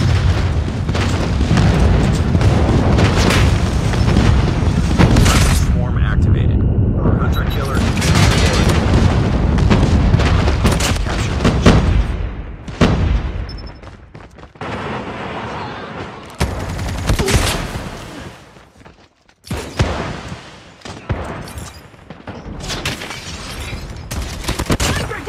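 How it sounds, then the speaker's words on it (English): Explosions and gunfire from a Call of Duty Mobile ranked multiplayer hardpoint match during an enemy airstrike, heavy booms and rapid shots dense and loud for the first half, then thinning into scattered bursts with brief gaps. "Enemy airstrike incoming."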